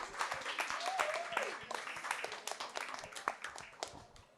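Scattered audience applause at a panel discussion, fairly faint and distant, with some voices and chatter mixed in throughout.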